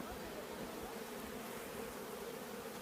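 Honey bees swarm around five-frame nuc brood frames, making a dense, steady, continuous buzz that fills the whole stretch without a break.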